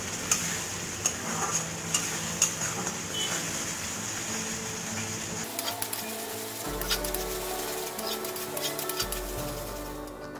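Spice paste with tomato stirred in a pan, a soft continuous sizzle with light scraping and ticking taps throughout, the tone shifting partway through, with no voices.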